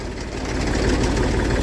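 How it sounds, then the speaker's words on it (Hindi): A tractor engine runs steadily in a farm field, a loud, continuous low rumble with a fast, even throb and no voices over it. "ट्रैक्टर इस तरह से चल रहा है"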